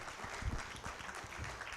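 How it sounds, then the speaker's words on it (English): Applause for Shaibu rises briefly and faintly from a conference audience at a fintech event, a short dense patter of clapping heard from a distance. "Ladies and gentlemen, a round of applause for Shaibu."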